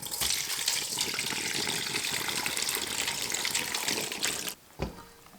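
Apple scrap vinegar pours in a steady, splashing gush for several seconds while being strained, then stops abruptly, followed by a brief thud and trickle.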